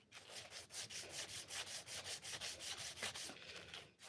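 Knife blade wet-sanded by hand with 220 grit sandpaper: steady back-and-forth rubbing strokes, roughly two per second, close and fairly quiet, with no talking.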